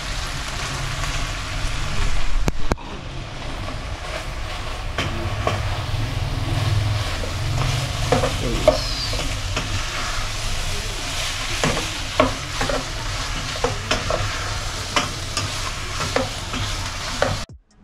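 Food sizzling and frying in a pan at home while a utensil stirs it, with a steady loud hiss and clinks and scrapes of stirring, close up and without speech.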